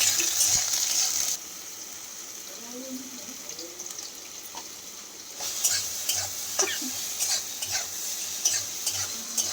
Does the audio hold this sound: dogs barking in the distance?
no